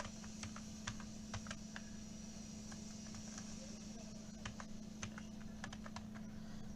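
Fingers type on a computer keyboard, quiet scattered key clicks in short irregular bursts over a steady low hum, with no talking.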